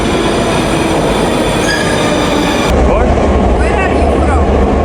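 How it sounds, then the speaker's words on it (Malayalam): A Moscow metro train pulls into the station, a steady rumble of wheels and carriages with rising squeal, then a heavier low roar as it arrives close by; faint voices murmur in the background. "അവിടെ നിന്ന് നമ്മുടെ മെട്രോ വരുന്നുണ്ട്"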